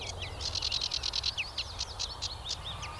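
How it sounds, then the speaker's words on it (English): Several male songbirds sing from high perches on tall bushes in open countryside, a steady run of bright, rapid chirping phrases repeating close by over a low background rumble. "These are all male birds, and they're singing to mark their territory."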